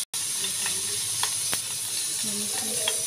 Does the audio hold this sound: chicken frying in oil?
yes